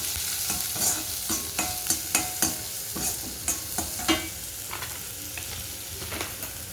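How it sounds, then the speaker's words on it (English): Onions sauteing in a pan for Coimbatore-style sukitti keerai greens, a soft sizzle under repeated scraping strokes of a spoon stirring against the pan, close and rhythmic with no voices. "So we are going to saute the onions."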